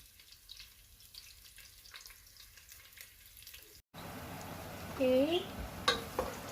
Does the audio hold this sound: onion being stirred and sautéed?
yes